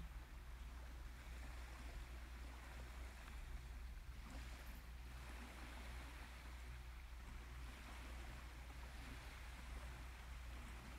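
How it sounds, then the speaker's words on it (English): Soft, steady ocean surf washes in the distance with a low rumble, quiet and continuous with gentle swells and no voices. "Listen to the sound of the waves"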